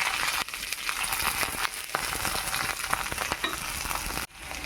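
Garlic and green chilies sizzle and crackle in hot mustard oil with nigella seeds, a dense continuous frying hiss with stirring scrapes, close and loud with no talk.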